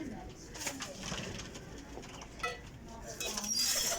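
Sialkoti flying pigeons coo softly in a loft, low throaty calls repeating under faint background noise with a few scattered clicks and rustles.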